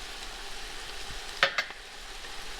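Carrots and dried tarragon dropped into onions sauteing in a pan bring a steady sizzle, with a brief burst of louder hissing and clatter as the vegetables hit the hot fat.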